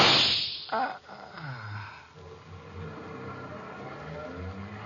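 A car pulls away and fades into the distance after shots are fired from a window, its engine loud at first and then receding under lingering background noise, with no talking.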